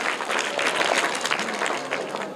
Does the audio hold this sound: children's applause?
yes